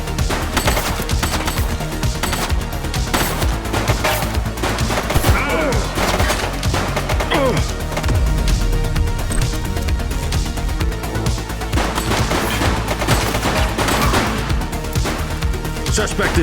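Rapid bursts of gunfire from a shootout in the video game The Precinct pound steadily and loudly throughout, with heavier thuds mixed in and voices calling out over the shooting.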